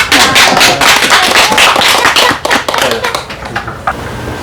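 An audience in a Korean farming museum applauds to welcome a tofu-making couple. Close, lively clapping from many hands fills the whole stretch, then thins out and fades toward the end.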